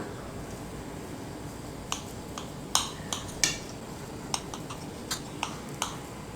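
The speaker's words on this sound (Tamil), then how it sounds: "இப்போ நம்ம இதை கட் பண்ணி எடுத்துக்கலாம்." Knife cutting through a rava cake topped with grated nuts, giving faint, sharp clicks and taps against the tray at irregular intervals over quiet background hiss.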